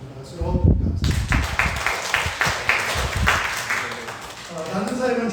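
A church congregation gives thanks with applause after a Sunday service announcement, following a spoken voice. The clapping is a moderate, even spatter of many hands, and talk resumes at the end.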